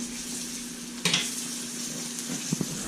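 Burger patties sizzle steadily on a hot griddle, a constant close hiss broken by a sharp scrape of a spatula and a couple of light clicks; no talking.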